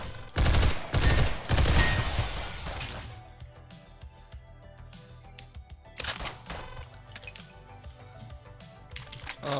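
Rapid gunfire from the Synthetik video game rattles loudly for the first few seconds, then thins into quieter scattered shots and clicks before another burst near the end.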